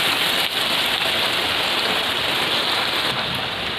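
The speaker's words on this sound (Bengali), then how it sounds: "তো বাইরে এখন প্রচণ্ড বৃষ্টি হচ্ছে।" Heavy rain pours down outside a home kitchen while onions fry, a dense, steady hiss of water on surfaces that holds loud and unbroken throughout, with no voices.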